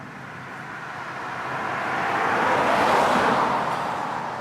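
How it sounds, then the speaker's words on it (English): A car passes on a rural Tennessee road, its tire and engine noise swelling from a low hiss to a broad rush at close range, then fading as it moves away. "as you can tell, a lot of cars driving by."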